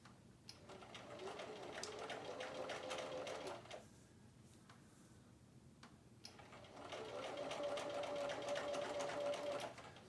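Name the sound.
sewing machine stitching fabric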